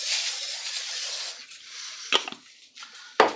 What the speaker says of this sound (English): you're going to take your olive oil spray